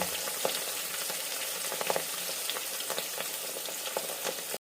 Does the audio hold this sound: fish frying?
yes